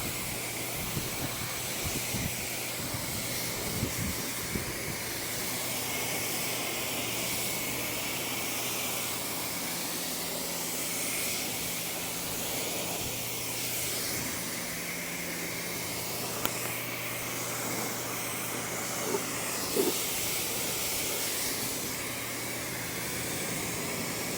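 A pressure-washer water spray rinses car wheels in direct sunlight, a steady loud hiss that runs nearly unbroken throughout, with a low hum underneath and a few brief spikes.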